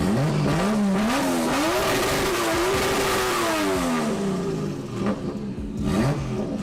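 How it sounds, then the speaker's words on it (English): A race car in a video game screams at high revs and bounces hard off the rev limiter, its pitch wavering up and down in a loud, continuous, buzzing drone with no talk over it. "Limiter test, watch out!"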